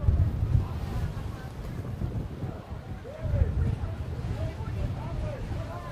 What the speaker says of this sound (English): Wind is blowing right at us.